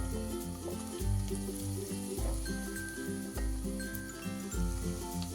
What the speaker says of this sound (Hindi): अब हम इसमें डालेंगे ऑनियन और गार्लिक। हम इसको भी हल्का सा फ्राई करेंगे तेल में